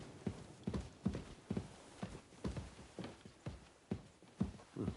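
Horse hooves clip-clop at a steady walking rhythm in the video game Kingdom Come II, about a dozen close, clear hoofbeats over a faint background with no talking.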